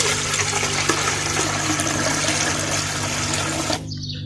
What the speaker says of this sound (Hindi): उसके बाद हम लेंगे पानी।